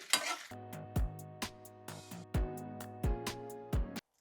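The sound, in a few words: dried red chillies frying on low flame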